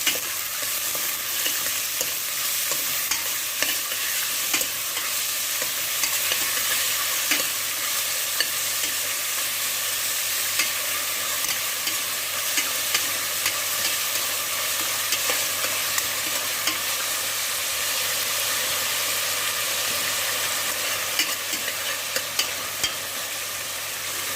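Garlic and onion sizzle steadily in hot oil in a pan while being stirred, a loud, continuous crackling hiss with faint scraping, close up and unbroken, with no voices.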